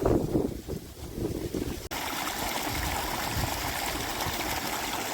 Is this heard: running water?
yes